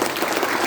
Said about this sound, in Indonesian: Aplaus dulu dong buat Winners Team.